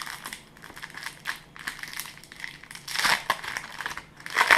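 Ekstraklasa 2014/15 sticker packets crinkle and tear open at close range in bursts of sharp, papery rips and crumpling that grow louder toward the end.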